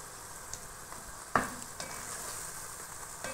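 Prawns and small pieces of fish frying in oil, a soft steady sizzle with a sharp utensil knock and a few light stirring scrapes, no talking.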